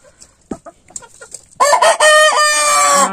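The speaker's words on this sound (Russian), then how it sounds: "Петух." Near a farmyard with chickens and turkeys, a few soft clucks give way to a loud, close rooster crow that rises and holds for over a second at full strength.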